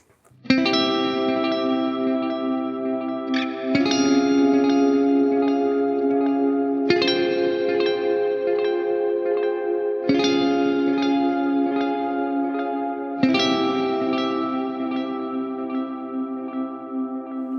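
A clean electric guitar tone from a Line 6 Helix, with delay placed before the amp, strums five sustained chords, each ringing out with lush echo and reverb trailing into the next.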